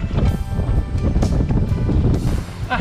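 Strong wind blows across a seashore during beach foraging, a continuous loud, rough roar buffeting the microphone, with the wash of surf mixed in.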